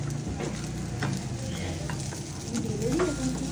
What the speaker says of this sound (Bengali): এই লঙ্কার চপ ভাজা হচ্ছে।